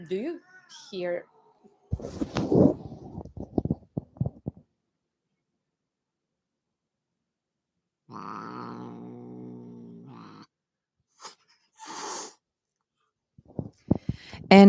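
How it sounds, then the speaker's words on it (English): Cats, one a Persian, yowling and growling at each other in a drawn-out, strained cry, followed by short sharp bursts; people talk before and after. "is our cat's fight. It's a daily conversation."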